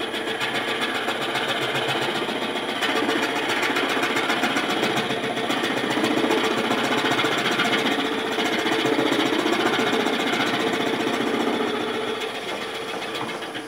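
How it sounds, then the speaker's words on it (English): Woodturning lathe running at about 300 RPM while slowly boring a center hole, a steady dense mechanical whir and rattle with continuous grinding texture, close and loud throughout, no voices. "Now I'm advancing that very slowly so I get a nice true center hole in that."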